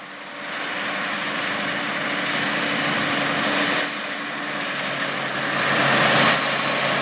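A 370-horsepower John Deere tractor engine works a dairy farm field, giving off a loud, steady, continuous drone that holds even for about seven seconds and swells slightly near the end.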